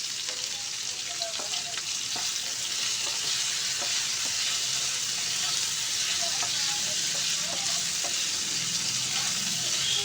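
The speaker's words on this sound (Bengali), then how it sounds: "তো আলুগুলো দিয়ে আমি ভালোভাবে নেড়ে চেড়ে মিশিয়ে নেব।" Potatoes with poppy seeds fry in a pan, a continuous close sizzle with repeated light scrapes and taps of a spatula as they are stirred throughout.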